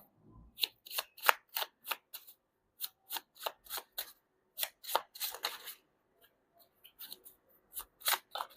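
Tarot cards are shuffled by hand in a string of quick, crisp riffling bursts and slaps, close and clear with short pauses between them.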